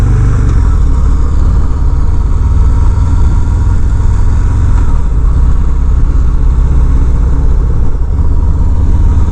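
A 2020 Harley-Davidson Fat Boy's V-twin engine idles loudly and close by, a steady, low, throbbing rumble that holds even throughout with no revving.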